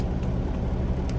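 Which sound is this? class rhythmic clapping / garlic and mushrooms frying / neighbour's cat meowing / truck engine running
truck engine running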